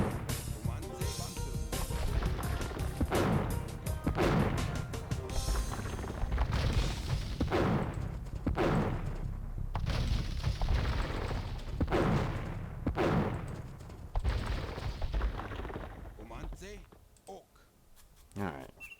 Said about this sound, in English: So these Spanish, they're not so special with their cannons.